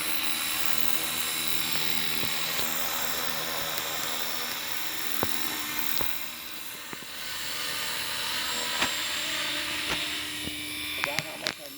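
A 270 Fusion radio-controlled helicopter comes in to land close by, its high, steady whine and buzzing rotor drone filling the scene with small clicks and shifts as it settles, while a person talks over it.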